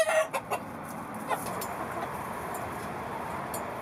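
Farm chickens that survived a feral dog attack, some badly injured, give a few short clucks early on, fairly close, before a low steady background with no talking.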